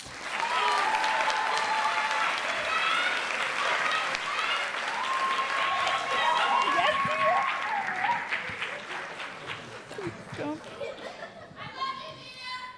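Applause for architecture graduates at a Kente stole ceremony, a dense crowd clapping with cheers and children's voices mixed in, then fading toward the end as chatter and a few scattered claps remain.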